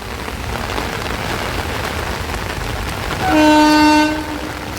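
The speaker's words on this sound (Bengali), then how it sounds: "মালগাড়ি হতে পারে, মালগাড়ি আসছে।" Steady loud rumble and hiss of an oncoming freight train around a curve at Jhaluarber railway station, broken by a sustained horn blast before the roar continues.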